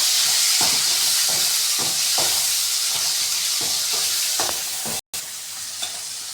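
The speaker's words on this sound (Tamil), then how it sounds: "இப்போது கட் பண்ணி வச்சுருந்த தக்காளியை போட்டு நல்லா வதக்கிக்கலாம்." Chopped tomatoes sauté in a pan with a loud, steady sizzle, and stirring scrapes come at a regular rhythm. Near the end there is a brief dropout.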